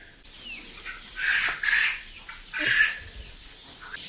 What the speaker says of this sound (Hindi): ये देखिए, ये जो चूजे हैं